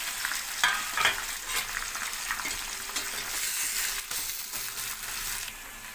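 Brinjals sizzle and crackle steadily in hot oil for a stuffed eggplant curry, with a constant bright fry hiss and occasional scraping taps of a spoon stirring the pan, close and fairly quiet, no voices.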